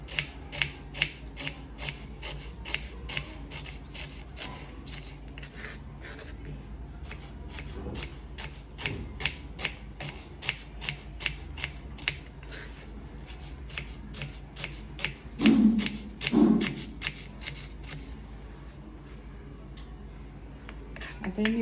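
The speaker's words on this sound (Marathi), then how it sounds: "मी तुम्ही बघू शकता 2 कांदे घेतल्यास ते लांबसर कापून घेत आहे।" A knife slices two onions lengthwise on a board for an Agri-style dried fish curry, producing steady rapid close chopping taps across the whole stretch, with someone talking over it.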